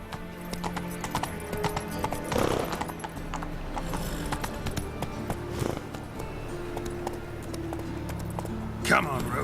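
Roach, Geralt's horse in the video game The Witcher 3, gallops with steady, close clip-clop hoofbeats throughout, a brief whinny-like burst near the start and game ambience underneath.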